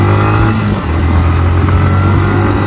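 A Yamaha MT-15 motorcycle engine revs loud and close, a sustained throaty drone that holds steady with a brief dip, near a construction site.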